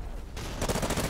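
Bizon submachine gun in Call of Duty: Ghosts firing in a dense, rapid burst that swells loud after a brief quieter start, with game noise underneath.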